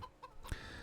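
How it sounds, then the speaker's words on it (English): Chickens in the Farming Simulator 25 video game give a few quiet, brief clucks, faint and soft within a short stretch of low-level game ambience. "let's see how our chickens are actually doing"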